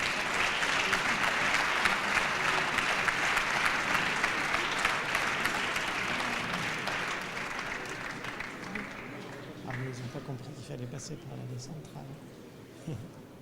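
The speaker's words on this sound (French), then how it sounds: "je vous demande d'applaudir les filles du Montpellier Rugby Club" Audience applause at a sports award ceremony honoring a women's rugby club, loud and steady at first, then fading over the second half as voices and movement rise underneath.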